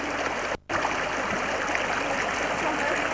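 The Kozjak stream rushes through snow and ice in winter, a steady, loud, full-band flow of water that fills the whole stretch, briefly cut out by a short gap near the start.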